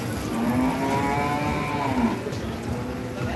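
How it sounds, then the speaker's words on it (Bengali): Sahiwal cattle at a traditional Zinzira cattle market low repeatedly in long, drawn-out moos, close and loud over a steady hum of market background noise. "এই যে শাহিওয়াল সুন্দর সুন্দর চমৎকার গরু রয়েছে"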